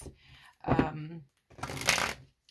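Two bursts of crisp, riffling tarot card shuffling, close up, separated by a brief pause, with no talking.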